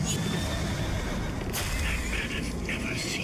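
A horse in the video game Bioshock Infinite whinnies over a constant noisy background, with a sharp burst and several short wavering neighs that sound somewhat synthetic.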